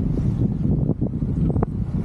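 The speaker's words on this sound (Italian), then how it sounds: "Purtroppo c'è un po' di vento, per cui probabilmente mi sentirete male" Wind buffets a microphone outdoors, a steady low rumble with gusty bursts that stays loud for the whole stretch and runs on its own with no voices.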